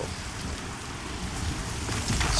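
Steady rain falls in the dark in the video game Pantheon: Rise of the Fallen, a continuous broadband hiss with a faint low rumble, swelling slightly louder near the end with no voices.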